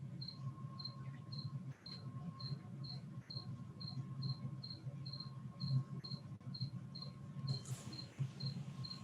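Feeder crickets kept for reptiles chirp in a steady, regular rhythm of short high trills, fairly faint, over a low background hum.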